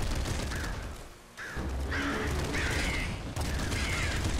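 Triple machine gun in Nuclear Throne, rapid bursts of gunfire in steady runs with a short pause near the middle and bright chirping game effects layered on top.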